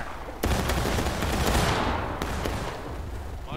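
A musket volley rings out in the Civil War video game War of Rights: a sudden loud crackling burst of many shots fired at once, followed by a rumbling echo that fades over a few seconds.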